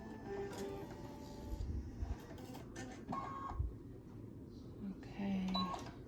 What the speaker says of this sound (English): Now we're doing our applique stitching, satin stitching.